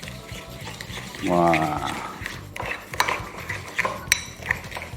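Pudding mixture for a wheat regal sari pudding whisked in a bowl, with rapid clinking and scraping strokes close up, under a brief exclamation from a voice.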